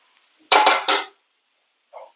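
Garam masala stirred into onions in a pan, heard as two quick scraping, clinking bursts of a utensil against the pan, then a short soft clank after a pause.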